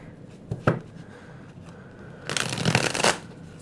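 Tarot cards are riffled and shuffled close by, a couple of quick flutters followed by a longer, louder shuffling burst.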